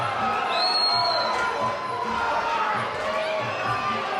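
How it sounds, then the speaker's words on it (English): Loud, continuous roar of a fight crowd at the Detonation 7 combat event, a steady wall of cheering and shouting voices with occasional whoops rising above it. "Crazy crowd here, Hammer. Very vocal."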